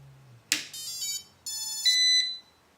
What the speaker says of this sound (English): you hear one additional tone that actually comes from the buzzer on the back of the 2X